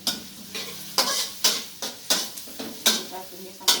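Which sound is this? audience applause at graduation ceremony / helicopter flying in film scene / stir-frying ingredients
stir-frying ingredients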